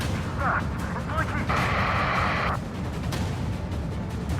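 Missile launches and explosions in the Ace Combat 7 jet combat game: several sharp booms, then a sustained roaring rush that cuts off suddenly, over a constant engine drone with radio chatter.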